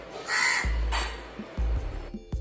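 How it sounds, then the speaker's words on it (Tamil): A crow calling at lunchtime near a home, giving several loud, close, harsh caws in quick succession with short gaps between them. "சோ காக்கா பாத்தீங்கன்னா டெய்லி லஞ்ச் டைம்ல வந்து கூப்பிடும்."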